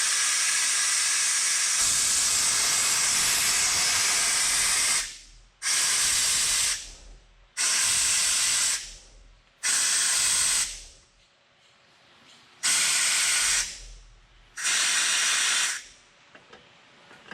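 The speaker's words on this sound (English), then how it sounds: "Let's let some air out of this guy." Air hisses loudly out of a valve in a long continuous blast, then stops and starts in several shorter bursts separated by quiet gaps.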